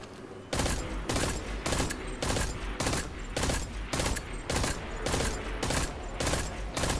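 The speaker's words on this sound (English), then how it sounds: "I'm hitting the trigger as fast as I can. So let's reload. Let's empty a clip." A weapon emptying a full magazine in the video game Destiny 2: about a dozen loud, evenly spaced shots in a steady, moderate rhythm, with nothing else heard.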